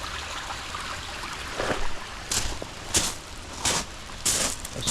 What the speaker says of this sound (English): It's absolutely pouring right now